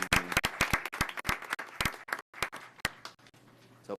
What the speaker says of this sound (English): Can we give a round of applause for all of our recognitions for this evening?